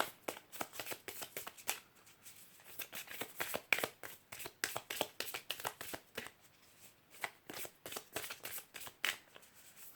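Tarot cards shuffled by hand for a reading, a quick irregular run of crisp riffling flicks and papery slaps that comes in bursts across the whole stretch, close and moderately loud with no voice over it.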